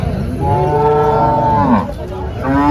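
A cow moos in a long, loud, drawn-out call at a cattle market in Chalisgaon, followed by a second shorter moo starting near the end, with no talking.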